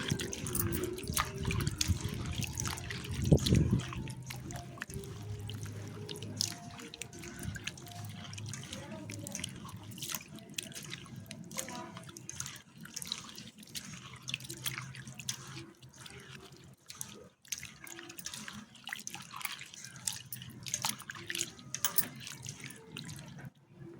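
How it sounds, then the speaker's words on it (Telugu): Water from a tap runs and splashes continuously in a sink as spiny gourds are washed, with some clatter early on, fairly faint and without talk. "రెండుసార్లు నీళ్ళు పోసి మంచిగా కడిగిన"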